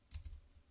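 A computer keyboard shortcut, Control plus F2, pressed in a spreadsheet program, giving two quick soft key clicks close by with no talking.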